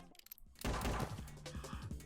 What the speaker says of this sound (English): Out of nowhere, Trickster pulled out a revolver. With 2 gunshots, Luxuria fell to the ground.